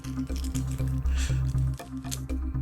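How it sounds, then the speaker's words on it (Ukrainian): A chemical hand warmer pulled from its packet, close crinkling and squishy plastic rustles in short repeated bursts over a pulsing low hum. "Треба достати саму грілку з пакету"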